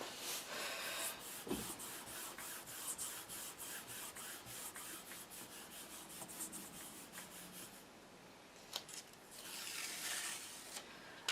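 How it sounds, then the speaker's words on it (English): Paper is rubbed firmly by hand onto a gel press plate inked with alcohol ink, making a steady, close, soft scraping swish that carries on for several seconds with a few brief bumps and pauses. "Pop you down in the middle, give you a really good rub."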